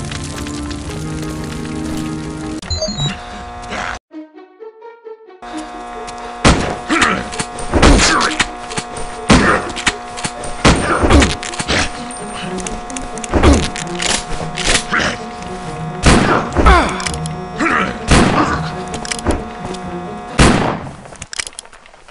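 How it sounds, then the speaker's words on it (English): Repeated heavy blasts and crashing impacts shake a burning hospital in a video game, bursting out loud and irregularly over a steady roar of fire and debris after a brief quiet gap. "Explosions rocked the hospital"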